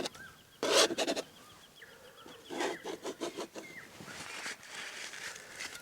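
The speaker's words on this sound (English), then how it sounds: "Those birds sound fantastic." Birds singing outdoors, scattered chirps and short calls at a distance, faint, mixed with brief rustling and rubbing noises nearby.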